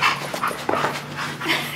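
Dogs cooped up in a hotel room play and pant, giving quick breathy pants, yips and small whimpers close by, in short irregular bursts.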